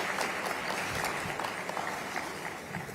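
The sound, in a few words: applause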